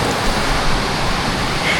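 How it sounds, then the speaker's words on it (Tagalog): Heavy rain pouring down, a loud, dense, constant broadband roar with no gaps or distinct drops, close and steady throughout. "grabe ang lakas ng ulan"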